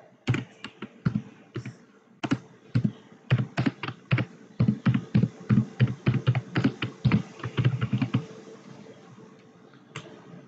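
Someone types on a computer keyboard in a steady run of close, crisp keystrokes, entering a chart title in MS Excel, with a few isolated clicks before and after the burst.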